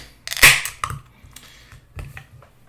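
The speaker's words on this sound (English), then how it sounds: "Gonna crack this open." A drink can cracks open with one sharp, close snap and a brief fizzing hiss, followed by a few softer clicks and taps of handling.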